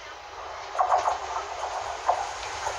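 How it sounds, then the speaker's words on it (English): A freight train, class 66 locomotive 66560 hauling wagons, rolls through platform 1 at Westerfield station, a steady rumble with rhythmic clattering of wheels over rail joints and a hissing wash of noise. "next train to pass through platform 1 is, well, it's a freight service"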